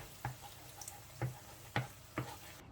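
Eggs being stirred with chanterelles and bacon in a frying pan: quiet sizzling under four soft, evenly spaced scraping taps of a utensil against the pan, with no talking.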